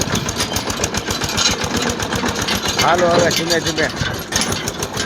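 A tractor engine chugs steadily as the vehicle drives through a village farm field, a continuous mid-pitched rumble running the whole time under people talking.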